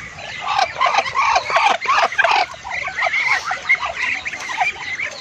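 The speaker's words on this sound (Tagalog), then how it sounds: "ang lalaki talaga ng mga pato na ito" Ducks and chickens being fed on a farm: a dense, continuous chorus of quacking and clucking, fairly close and busy, with no talking.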